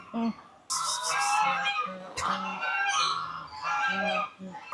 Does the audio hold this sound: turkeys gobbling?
yes